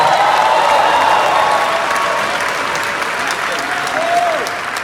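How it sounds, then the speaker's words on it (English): Large convention audience in Las Vegas bursts into sustained, loud applause, a dense wash of many clapping hands that holds steady throughout with faint crowd noise mixed in. "Give yourselves a round of applause"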